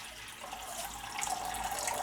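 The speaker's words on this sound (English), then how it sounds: "now what we're going to do is pour the water out of the granulated gold." Water poured off granulated gold into a pan, a steady splashing stream that swells slightly toward the end, close and fairly quiet with no voices.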